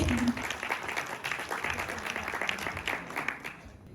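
An audience claps at a live music tribute concert in London, dense continuous applause that slowly thins and fades toward the end.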